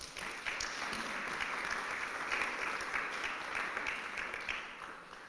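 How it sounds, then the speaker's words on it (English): Sustained audience applause at a guide dog graduation ceremony, a dense, steady wash of many hands clapping that holds at an even level for the whole stretch. "How about a big round of applause?"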